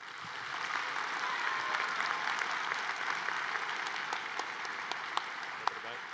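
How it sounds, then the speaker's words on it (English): Steady applause from a seated audience at a national academic decathlon quiz event, a dense even patter of many hands clapping that holds throughout with a few sharper claps standing out. "One more round of applause for Christopher Gonzalez from Granada Hills"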